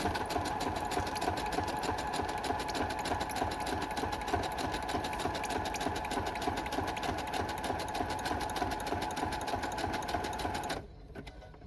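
A sewing machine stitches journal covers at a moderate speed, with white bobbin thread and black top thread, a rapid, even mechanical whir and clatter running steadily for about eleven seconds before stopping abruptly, close and alone.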